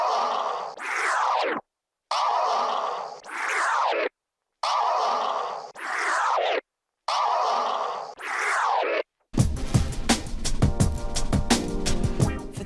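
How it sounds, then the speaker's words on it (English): DJ scratch drops over a scratch sample track, five sharp swishing scratch bursts separated by brief silences, followed by a stretch of the sample track playing on its own. "I'll teach you how to do drops, which sound like this"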